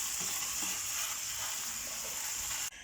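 Ground meat sizzling in a pan, cooked to stay moist as a pizza topping: a dense, even frying hiss holds close and loud for nearly three seconds, then cuts off abruptly.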